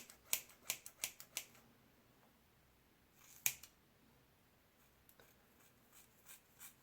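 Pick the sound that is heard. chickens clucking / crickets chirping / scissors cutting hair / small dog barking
scissors cutting hair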